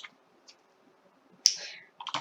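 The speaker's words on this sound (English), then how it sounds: "I'm going to click I on my keyboard" Computer keyboard keys are pressed while keyframing an animation in Blender: a few faint scattered ticks, then one sharper click and a quick pair of clicks in a quiet room.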